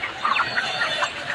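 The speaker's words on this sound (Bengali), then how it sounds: "এই যে মুরগি" Live chickens clucking at a busy poultry stall in a Keraniganj market, with short, close bird calls repeating over steady crowd and market noise.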